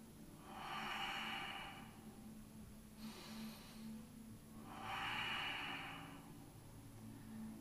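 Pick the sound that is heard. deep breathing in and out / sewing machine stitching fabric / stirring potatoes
deep breathing in and out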